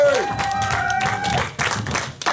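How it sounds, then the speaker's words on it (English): An audience at a Speakers Club jammers presentation cheers and applauds as Brother Tony is called up. Dense clapping and shouts fill the short stretch, with a brief sustained whistle or cry near the start. "So give your best, loudest cheer for Brother Tony."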